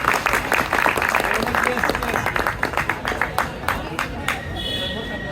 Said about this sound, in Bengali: জোরে জোরে জোরে হাততালি চাই।